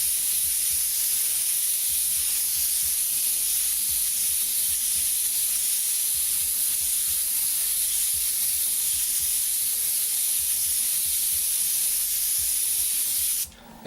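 An airbrush sprays paint in a wide pattern, giving a steady close hiss that runs almost unbroken for the whole stretch, with a few brief gaps before it cuts off at the end.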